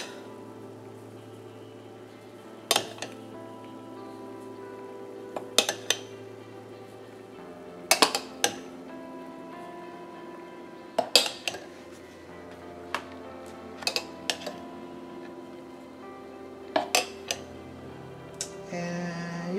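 A spoon repeatedly clinks against cups while scooping milk froth for homemade lattes from a Mr. Coffee BVMC-EL1, sharp metallic taps spaced a few seconds apart over a low steady hum.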